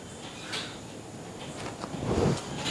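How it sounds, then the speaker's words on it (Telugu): A house gate is opened, with a few faint knocks and a louder sliding, scraping rattle near the end over a quiet indoor background. "Gate sound."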